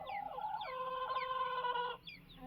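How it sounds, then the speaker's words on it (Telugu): Close, clear crow of a pachcha kaki dega rooster on a farm, one long drawn-out call with rising and falling harmonics lasting about two seconds, with faint clucks around it and no talking. "ఒకటైతే కూత కొడుతుంది, ఇంకోటి కూత కొట్టట్లేదు"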